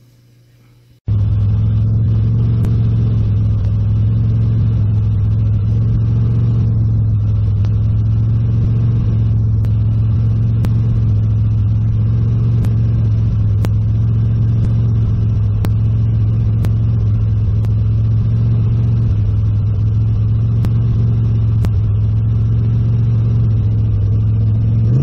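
Lancia Stratos replica car in slow traffic, heard from inside as a steady low engine rumble and hum that holds nearly constant throughout, with no talk.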